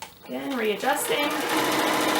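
A sewing machine runs steadily while gathering fabric with stretched elastic, its fast even whir starting after a brief spoken remark that partly overlaps it.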